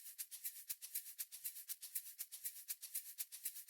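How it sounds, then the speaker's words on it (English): Shaker loop in a programmed Afrobeat drum track, a quick, even rhythm of bright, crisp rattling hits repeating alone with no voice. "But I have some shakers on like this."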